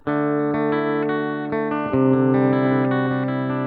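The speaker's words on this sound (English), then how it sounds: "Let's start with some clean tones, and this is without the EQ pedal." Clean electric guitar tone played through a Spark 40 amp with no EQ pedal, sustained strummed chords ringing steadily and fairly loud, with a change of chord partway through and no voices.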